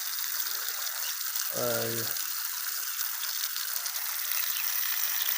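A DC battery-powered mud pump pours water onto chili and eggplant plants, giving a steady, close rushing gush of water throughout, with a brief voice cutting in once.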